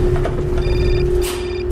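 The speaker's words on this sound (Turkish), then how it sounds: "Telefonumuz çalıyor." An old-style telephone bell rings in the video game Syberia, a bright, loud electronic ring sounding in two bursts over a steady low hum and ambient game music.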